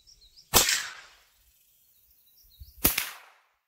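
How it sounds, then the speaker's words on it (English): Two sharp, loud gunshots from a .44 Magnum firing Barnes VOR-TX ammunition at 25 yards, each a crisp crack followed by a short decaying echo, spaced about two seconds apart outdoors. "for our third and final shot at 25 yards"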